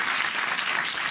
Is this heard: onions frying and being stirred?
no